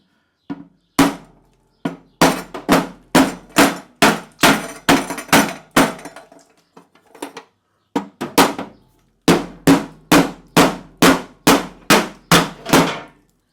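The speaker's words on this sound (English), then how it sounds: "I don't know what this hammer was called, but I saw them using this a lot to pound out" A body hammer pounding out car body metal in loud, sharp, ringing blows, mostly in steady rapid runs with a few brief pauses.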